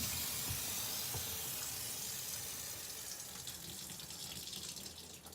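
Water runs steadily from an opened garage sink faucet, a faint continuous rushing splash that thins slightly toward the end, with no voices.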